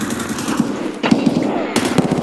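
Bursts of automatic gunfire in Escape From Tarkov, loud rapid volleys in several clusters with short gaps between.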